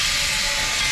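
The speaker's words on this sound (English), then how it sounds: "After the engine got ready and it started steaming out," SP Engine 18, a steam locomotive, hisses as it starts steaming out, a loud, steady burst of bright steam noise lasting under a second with no voices.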